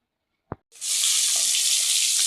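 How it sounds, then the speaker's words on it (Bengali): Taki fish hitting a hot frying pan, a sharp brief click followed by a loud, steady, hissing sizzle that swells up and holds close and constant, with no talking. "এই যে আমি মাছটা ভাজি করে নিচ্ছি।"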